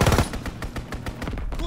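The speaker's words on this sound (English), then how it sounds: "Enemy strafing run incoming" An enemy aircraft's strafing run in Call of Duty WW2 Domination multiplayer, a dense, rapid burst of machine-gun fire rattling loudly and continuously for under two seconds.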